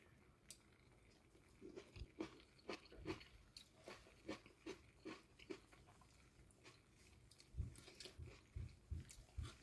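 Repeated crisp crunching bites of radish that was frozen and then braised with mackerel, close and loud, with wet chewing between crunches in a steady rhythm.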